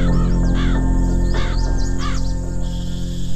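Crows caw loudly three or four times in quick bursts, close by, over a constant low background hum in a Vietnamese drama scene.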